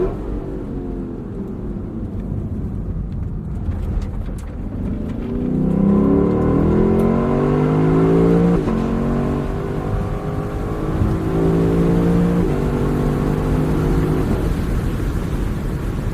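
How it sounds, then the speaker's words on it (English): Lexus exhaust revving close by, a loud roar that rises through repeated climbing sweeps and holds high before easing back, alone without talk. "What you really want to hear is this exhaust."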